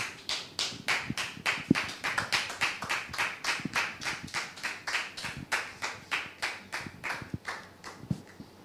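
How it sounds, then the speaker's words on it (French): A crowd claps in steady unison, about three claps per second, for the whole stretch with no voices on top. "Public, merci de le recevoir sous vos applaudissements, s'il vous plaît."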